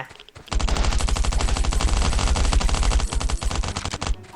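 In the Last Island of Survival game, a long burst of rapid automatic gunfire sounds loud and close, with a short pause partway through before the firing picks up again and then stops abruptly.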